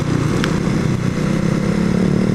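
Motorcycle engine running with a replaced airbox lid, a steady, fairly quiet mid-pitched drone that holds evenly throughout, recorded while riding in Hong Kong.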